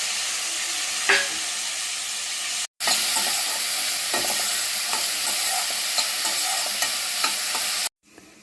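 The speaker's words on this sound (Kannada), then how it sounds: "ನೋಡಿ, ತರಕಾರಿ ಹೆಚ್ಚಿಟ್ಟಿದ್ದೆಲ್ಲ ಹಾಕಿದ್ವಿ. ಚೆನ್ನಾಗಿ ಇವನ್ನ ಬಾಡಿಸ್ಕೋಬೇಕು." Finely chopped vegetables with garlic and onion sizzle steadily in hot oil in a pan for fried rice, a loud close frying hiss with occasional stirring scrapes, broken by two brief silences, with no talking.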